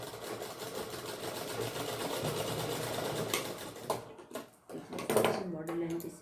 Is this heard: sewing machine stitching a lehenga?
yes